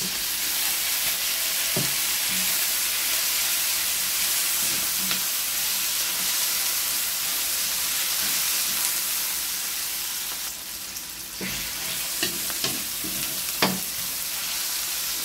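Garlic and onion sauté in a pan for a vegetable dish, giving a steady, loud sizzle throughout with occasional soft clicks of stirring.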